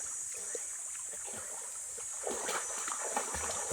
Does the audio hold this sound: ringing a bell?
no